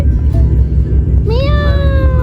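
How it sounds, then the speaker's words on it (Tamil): A kitten by a river lets out one clear, drawn-out meow near the end, heard over a steady low rumble of outdoor background noise. "இந்த குட்டி பூனையும் இதோட ஃபேமிலியும் இந்த ரிவர் ஓரமாக தான் இருப்பாங்க"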